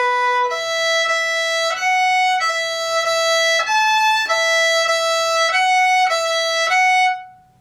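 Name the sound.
fiddle playing a section of Morrison's Jig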